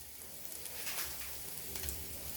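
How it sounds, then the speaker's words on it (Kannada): Coriander and cumin roasting in a pan over a medium flame give a soft, steady sizzle and faint crackle, with light scraping stirs rising briefly, close and quiet throughout. "ಮೀಡಿಯಮ್ ಉರಿ ಇಟ್ಕೊಂಡು ನೀವು ಇದನ್ನ ಹುರಿದ್ಕೊಳ್ಳಿ"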